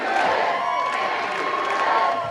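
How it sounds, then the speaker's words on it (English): A political rally crowd for Kamala Harris chants and cheers in approval, a loud, continuous roar of many voices that holds steady throughout. "That proclamation spurred a chant of approval from the crowd."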